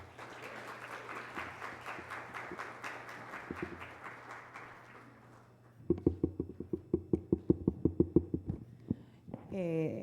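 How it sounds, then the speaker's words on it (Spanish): Conference audience applause, a thin patter of claps over a low hum, fades out and gives way to sharper, sparser close claps in a rhythmic run, with a voice starting at the end. "Un gran aplauso, Mónica, por favor."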